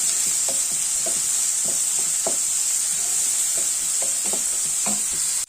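Small onions sauté and sizzle in a pan for beans mezhukku puratti, a steady bright frying hiss with soft spatula scrapes and stirring taps at an uneven rhythm, close and fairly loud, with no talking.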